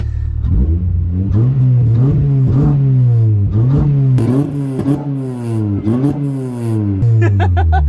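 A small engine in a Honda Civic revs repeatedly, its buzzing pitch rising and falling in quick bursts, loud and close, with a rattly, whiny, bee-like edge.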